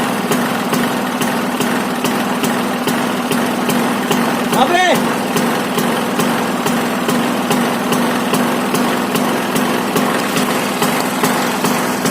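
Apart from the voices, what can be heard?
Bajaj Discover 150 motorcycle engine idling after cold start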